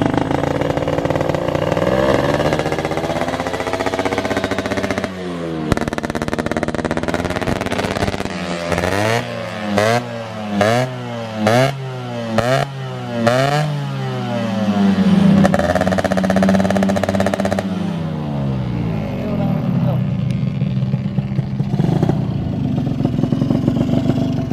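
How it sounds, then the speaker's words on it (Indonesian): A Honda Kobi style motorcycle with a standard carburettor runs on a road with a fairly smooth, mellow exhaust, revving up and down in repeated surges and shifting through gears, loud and close throughout. "Knalpot si Kobi biasanya suaranya gahar, ini agak sedikit halus, agak semut."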